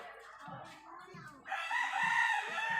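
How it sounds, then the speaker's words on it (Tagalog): Rooster crowing close by alongside chickens, a loud, drawn-out crow filling the second half over low clucking and a speaking voice. "Pasensya na po kayo sa mga manok namin dito."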